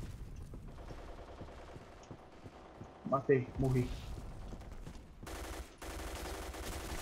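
Gunfire in the online shooter Black Squad, bursts of automatic fire with a loud cluster of shots midway and sustained rattling toward the end, under excited voices of players talking.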